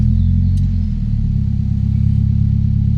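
Mitsubishi 4G91 twin-cam engine, converted to a full vacuum system, idling warm with the air conditioning switched on, a loud close steady low hum whose pitch shifts slightly as the idle compensates, with no voices.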